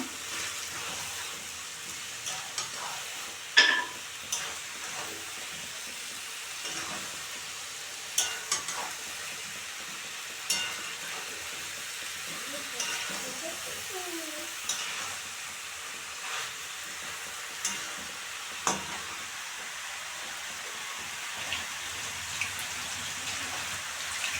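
Broccoli and potato fry together in a pan with a steady crackling sizzle, broken by scattered sharper pops and spatters, close and moderately quiet, with no voices.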